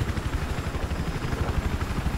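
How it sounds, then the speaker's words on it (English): Helicopter rotor chop from a night-operation military shooter on PC, a steady rapid thumping that stays loud and close throughout, with no voices over it. "we'll jump back in the helicopter with Ludi"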